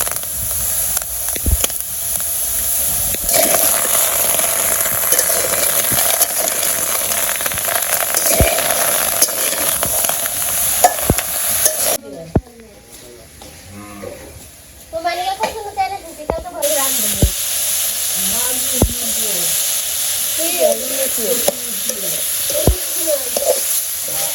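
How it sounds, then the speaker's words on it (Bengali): Food sizzles steadily in a hot wok, a constant crackling hiss, later green chillies frying; partway through someone talks over it, and occasional sharp clinks of stirring cut in. "ভেজে নিব কড়াই গরম হয়ে গেছে দিয়ে দিই"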